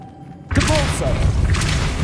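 A Depulso spell cast in Hogwarts Legacy sets off a sudden loud, booming thud followed by a sustained rumbling blast. A voice speaks at the onset.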